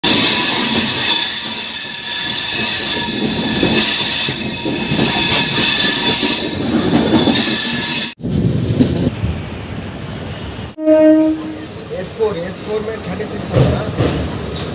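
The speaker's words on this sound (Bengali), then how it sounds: "হাওড়া আমটা লোকাল" A Howrah-Amta local train rumbles loudly close by, with steady wheel noise and metallic squeal, a sudden drop to near quiet, then renewed rolling clatter and screeching.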